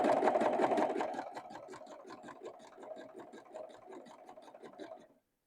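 Sewing machine stitching velvet ribbon at a long stitch length, a fast, close, steady mechanical whir that slows to distinct rhythmic clicks before stopping.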